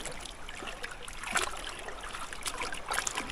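Water washing over rock in a gold panning classifier, a continuous trickling and splashing stream, close by, with a few brighter sloshes and no talking.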